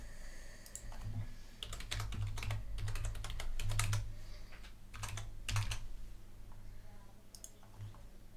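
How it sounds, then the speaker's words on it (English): Someone types on a computer keyboard, bursts of quick key clicks coming in uneven runs and pauses, close and fairly quiet over a low steady hum. "And I'll just type in something here."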